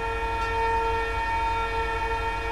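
Several car horns in Grand Theft Auto 5 honking together in one sustained, loud, blaring chord that holds steady without a break.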